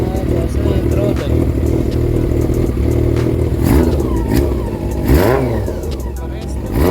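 A Honda CB400 cafe racer engine revs repeatedly during a throttle check, rising and falling in pitch with steady loud engine noise and some clatter, while someone talks over it.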